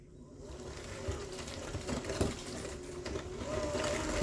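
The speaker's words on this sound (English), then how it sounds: "We're going to mix that all up." Eggs and a teaspoon of vanilla being mixed into hummingbird bread batter with an electric mixer, a steady buzzing whir that runs continuously and grows slightly louder toward the end.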